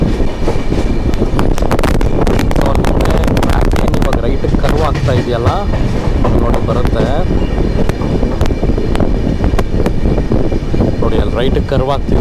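Train running on track heard from inside a Vistadome coach between Shivamogga and Chikkamagaluru, with constant loud rumble, wind noise and rhythmic clatter of wheels over rail joints throughout.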